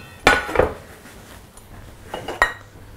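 A frying pan is handled on the stove before heating, giving a few sharp metallic clanks and clinks near the start and again toward the end, with quiet kitchen background in between.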